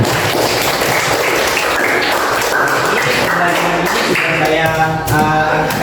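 A class of schoolchildren claps together to cheer themselves on, a dense, steady patter of many hands filling the room, with a few voices mixed in toward the end.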